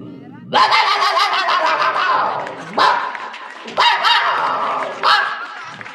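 A person imitates dogs barking, letting out several loud, drawn-out barks and yelps in a row, close up.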